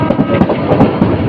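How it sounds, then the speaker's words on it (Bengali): Chottola Express passenger train, Dhaka to Chittagong service, passing at slow speed through a curve near Tongi, loud and close, with rhythmic clickety-clack of wheels over rail joints and a rumbling roar, no talking. "এই যে ট্রেনটি বাঁক নিয়ে রেলে পূর্বাঞ্চলের সেকশনে প্রবেশ করেছে।"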